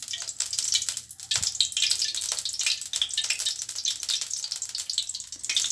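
Steady hot oil, about three tablespoons, sizzling and crackling in a pan for egg gravy, close up, with occasional sharper pops and no voices.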